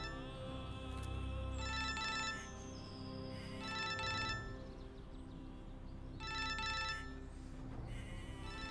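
Telephone ringing in repeated electronic trill bursts, four rings spaced evenly over a low, steady background hum, with no voices.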